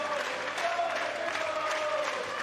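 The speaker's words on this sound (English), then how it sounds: "Good reaction from the crowd" Tennis crowd applauding at the Billie Jean King Cup Finals match between Emma Navarro of the USA and Sonay Kartal of Great Britain, a dense, steady patter of clapping from a large audience, fairly distant and even throughout.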